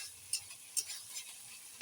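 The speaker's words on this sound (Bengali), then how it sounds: "এই দেখো এখন আমি মশলা কষাচ্ছি।" Spices being sautéed and stirred in a pan, heard as a few soft, scattered spoon scrapes over a quiet, faint background.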